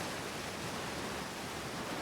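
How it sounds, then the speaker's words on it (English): Waterfall in the video game Outer Wilds: a steady, dense broadband rush of falling water, continuous and even throughout, with no voices over it. "Waterfall."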